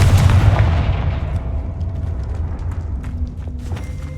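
A Confringo fire spell blast in the Hogwarts Legacy video game sounds as a loud, booming explosion up front that rumbles and slowly fades, with scattered small crackles following and no voices.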